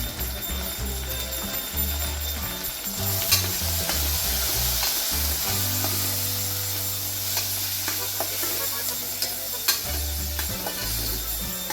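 Continuous sizzling of red chilli powder, coriander-cumin powder and salt sautéing on low heat in a pan, with occasional clicks and scraping from stirring, steady throughout and no speech.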